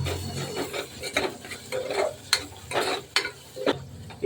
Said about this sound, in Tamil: இந்த ஸ்டேஜில் நம்ம மிளகாத்தூள் தனியாத்தூள் சேர்த்துக்கலாம்.